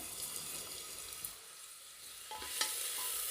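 Finely chopped onion frying in oil inside a pressure cooker over a low flame, a soft continuous sizzle close by with a few clinks near the end and no talking.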